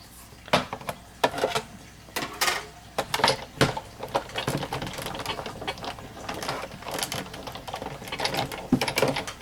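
A Big Shot die-cutting and embossing machine being cranked, giving a run of irregular mechanical clicks, ratcheting knocks and rattles, close and fairly loud with no talk.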